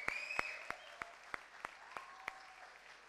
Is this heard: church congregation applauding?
yes